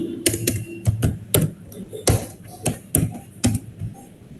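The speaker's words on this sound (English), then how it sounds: "Sorry for the keyboard sounds," Typing on a computer keyboard, heard up close as a run of sharp, uneven key clicks and taps with brief pauses between bursts.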